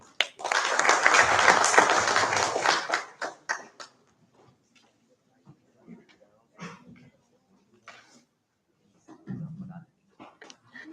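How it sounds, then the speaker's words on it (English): A burst of audience applause for the guest of honor at an Internet of Things workshop, dense clapping for about three seconds that dies out, followed by a quiet room with scattered voices. "A big round of applause for him."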